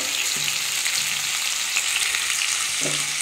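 Potatoes, onion and tomato frying in oil over tempered spices, a steady close sizzle with a few soft stirring scrapes and no voices.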